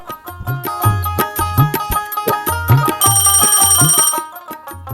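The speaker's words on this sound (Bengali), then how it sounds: "এখন আবার কে ফোন দিল" A telephone rings loudly in a home setting, with a repeating electronic ringtone melody of rhythmic, bell-like notes playing alone without voices.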